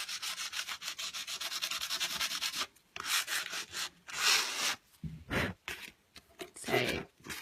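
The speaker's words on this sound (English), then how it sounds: "It's quite hard to sand one-handed, by the way." Hand sanding over Everlong paint with 180-grit sandpaper: quick, even back-and-forth rasping strokes, close and steady, then slower, broken scrubs with short pauses, no talk.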